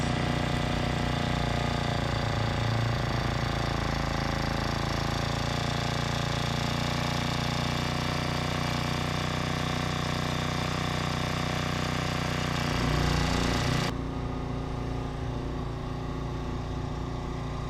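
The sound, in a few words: BLAZE 49cc gas scooter engine running after idle adjustment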